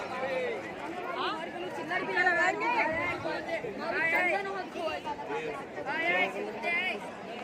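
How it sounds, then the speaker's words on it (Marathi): Dense crowd at the Shri Dwarkadhish temple on a busy Sunday, a steady babble of many overlapping voices close by, with one person talking clearly above the murmur. "गर्दी म्हणजे एकदम तुडुंब गर्दी आहे"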